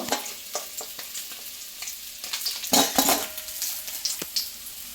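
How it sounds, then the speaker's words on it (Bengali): Pieces of rohu fish sizzling in hot oil in a pan in a home kitchen, a steady crackling fry with a few louder spatters and light utensil clinks, no talking. "মাছগুলো দেখছো একদিকটা পুরো লাল করে ভেজে নিচ্ছি"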